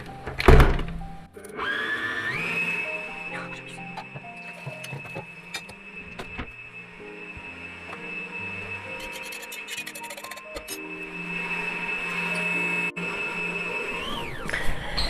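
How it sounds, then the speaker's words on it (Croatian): An electric hand mixer whips sweet cream in a home kitchen for a blueberry ice cream cake. After a thump, a high motor whine climbs and holds steady, with beaters clattering faintly against the bowl throughout. "uključit ću mikser i sve zajedno ću dobro da izmiksam"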